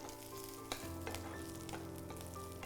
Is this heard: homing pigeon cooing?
no